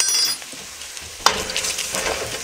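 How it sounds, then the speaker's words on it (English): Flour is stirred into browning food in a pot for corn chowder, with a spoon scraping and clinking against the pot over a low sizzle and one sharp metallic tap partway through. "I'm going to add 2 tablespoons of flour to this. And this is just going to help thicken it up. We're going to mix that right in."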